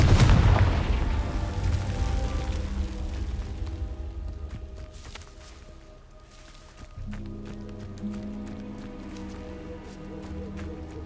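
A Confringo fire blast spell in Hogwarts Legacy bursts with a loud, booming explosion at the start, then rumbles and crackles as it decays, followed by a second, softer blast later on, with game ambience underneath.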